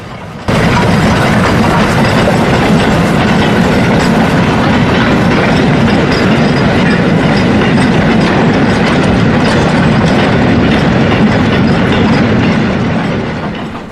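A double-header steam passenger train, the locomotives Nigel Mansell and King Charles Collett at the head, rolls through Limburton Station with loud, close, continuous rumbling and rhythmic clickety-clack of wheels that eases off slightly at the end.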